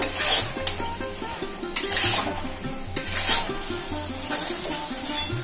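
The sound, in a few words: stir-frying jujubes for pickle in a pan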